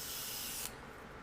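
Cleaner sprayed out of a paint airbrush gives a steady close hiss that cuts off sharply partway through, leaving faint background noise with no talk.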